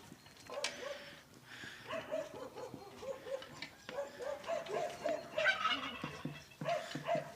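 Chickens and a turkey cluck and gobble softly while pecking at breakfast on a village farm in Ukraine, with scattered scratching and a few faint yips in the background.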